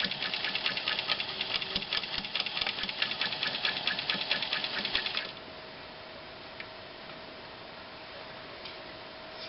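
A New Home Model 270 sewing machine running fast on a card table, a rapid even clatter of needle strokes for about five seconds before settling into a softer steady motor hum, close and loud with no talk.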